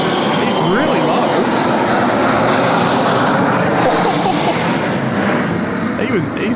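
An Emirates Airbus A380, flight EK412, departs Sydney Airport with a loud, continuous roar of jet engines filling the whole stretch, while people on the ground talk over it.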